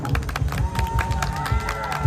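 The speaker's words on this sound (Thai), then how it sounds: "ขอเสียงปรบมือให้กับทุกท่านด้วย" Audience clapping and cheering at a likay folk-theatre performance at a Thai temple, a steady moderate wash of claps with some voices and a tonal line mixed in, continuous for about two seconds.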